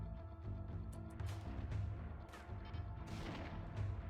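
Turrets in the RimWorld video game fire on raiders, a dense stream of overlapping shots and booms over a steady low game rumble, loud and continuous throughout.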